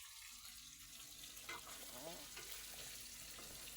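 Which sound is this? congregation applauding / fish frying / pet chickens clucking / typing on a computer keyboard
fish frying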